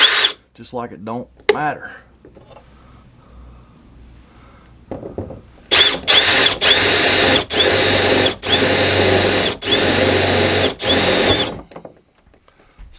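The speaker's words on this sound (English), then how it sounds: "just drill a 3/8 hole in this wall." A power drill whirs loudly in several sustained bursts with brief pauses between, boring a 3/8-inch hole in a wall, following a short stretch of someone talking.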